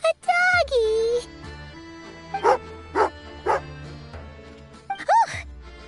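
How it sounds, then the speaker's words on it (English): Tagarin, a dog in the video game Genshin Impact, gives a few sharp, angry barks in quick succession between stretches of game dialogue and music, close and loud. "Oh, a doggy."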